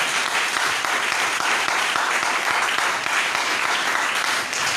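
A church congregation claps and cheers loudly in a sustained, even wash of applause with acclamation, steady for about five seconds with no pauses.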